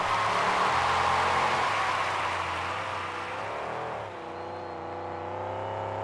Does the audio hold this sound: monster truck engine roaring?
yes